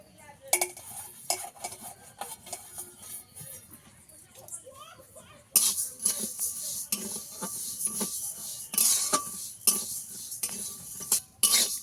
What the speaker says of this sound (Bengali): ডালটাকে ভালো করে একটু ভেজে নেব